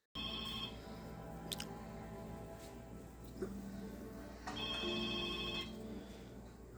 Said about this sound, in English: So this is Mr. Grumpy when he gets the phone call